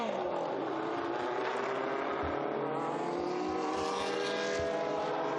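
A BMW M1 historic race car at the Estoril Classics racing event, engine roaring steadily as it passes at speed, loud and continuous, with a commentator's voice faintly under it.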